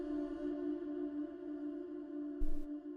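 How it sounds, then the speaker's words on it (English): A slow-echo, reverb-drenched vocal drone in an organic house track rings out as a steady, sustained tone with faint pulsing, then a short noisy hit near the end. "you get that really cool kind of like rhythmic sort of vocal drone afterwards, where it's like ringing out"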